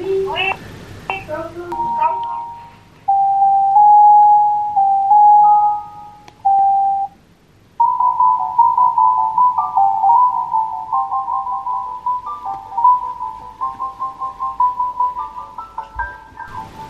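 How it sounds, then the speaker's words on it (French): Electronic alarm from a home camera monitor that triggers at a set temperature, sounding steady mid-pitched tones and then a rapid repeating beep pattern, with someone speaking briefly at the start. "Ça, c'est le son de l'alarme."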